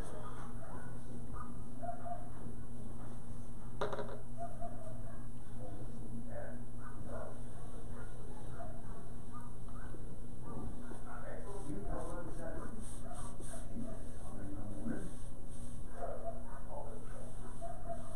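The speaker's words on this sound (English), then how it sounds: "Stop barking." A dog barks and yips intermittently through a home craft and painting session, with a few short sharp bursts over steady room hum and background speech.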